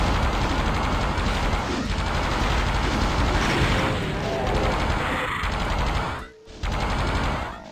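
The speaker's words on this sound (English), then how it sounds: "Drop a couple rounds in there and take out the remaining enemies the best you can." Sustained gunfire from DOOM Zero fills the space, a dense continuous barrage of loud shots and impacts in a room packed with enemies, briefly cutting out near the end before resuming.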